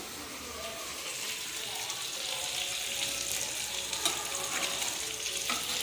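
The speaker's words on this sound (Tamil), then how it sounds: "ஃப்ரை பண்ணிட்டுருக்காங்க மீன் ஒருவல் சொரா புட்டு தேங்காய் பாறை மீன் ஒருவல் வறுத்துட்டுருக்காங்க" Fish sizzling in a frying pan, with a dense, continuous hiss and spatter that swells slightly toward the end; faint background voices.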